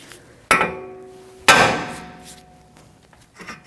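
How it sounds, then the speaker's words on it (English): Two sharp metallic hammer blows about a second apart strike a tie rod end to free it from the steering knuckle of a Volvo S60, each ringing briefly before fading, followed by faint handling noise. "Right here, you're going to hit it with a hammer."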